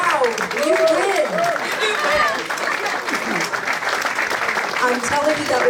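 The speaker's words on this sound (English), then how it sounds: "that was by far the best clapping of hands for the entire tour" A concert audience at a band's show claps in a dense, continuous burst of applause, with cheering voices and a few whoops rising over the clapping throughout.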